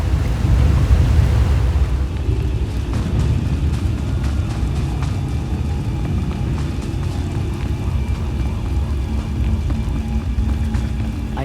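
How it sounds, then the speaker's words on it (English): A thunderstorm rumbles in Star Wars: The Old Republic, with a loud low roll of thunder at the start giving way to a steady heavy wash of rain and wind that continues throughout. "I fear the storm is getting worse."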